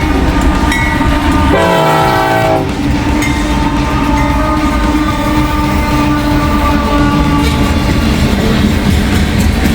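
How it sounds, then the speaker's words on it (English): A grain train rumbles past steadily and loud on a foggy line, its horn blaring in a chord of stacked tones for about a second early on. The rolling wagon noise continues without letup throughout. "Looks like we got a grain train here."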